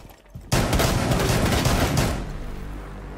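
Dense bursts of shotgun fire roar through a video game shootout, loud and continuous after a brief quiet start, with heavy booming blasts that gradually thin out toward the end.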